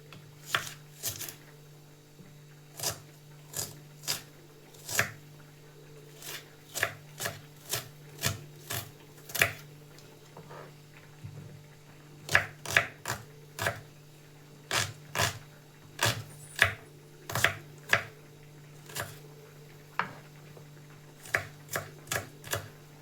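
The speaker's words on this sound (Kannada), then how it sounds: "ನಾವು ಇಲ್ಲಿ ಈರುಳ್ಳಿ, ಟಮಾಟೆ, ಕೊತ್ತಂಬರಿ ಕಟ್ ಮಾಡ್ಕೊಳ್ಳೋಣ" A knife chops onion, tomato and coriander on a cutting board, making bursts of crisp, quick taps with short pauses between runs over a low steady hum. No one speaks.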